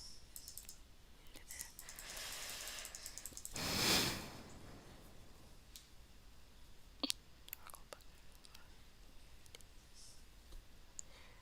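A computer mouse gives a few sharp, isolated clicks against a quiet background, with one brief rushing swell of noise before them.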